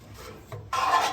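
Grease is scraped from the cavity of a Lone Star Grillz pellet smoker: a short, soft rasp, then a louder, gritty scraping stroke close by. No one speaks.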